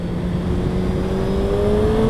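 A 2022 Suzuki Hayabusa motorcycle accelerates hard, its engine note rising steadily in pitch, loud and close, with rushing wind noise and no talking.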